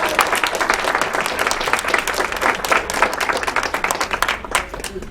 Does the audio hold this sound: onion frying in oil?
no